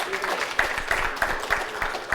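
An audience at a football league launch press conference gives a brief round of applause. The claps are distinct and fairly sparse, with a few sharp ones standing out over a low room murmur.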